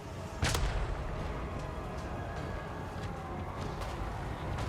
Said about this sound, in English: The artillery's fired in the back.